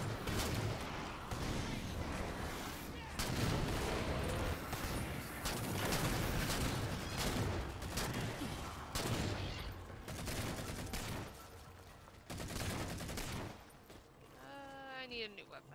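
Sustained gunfire in the video game Halo 4, dense overlapping bursts of rapid shots and explosive fire that stay loud for most of the stretch before dropping, with a brief whooshing sweep near the end.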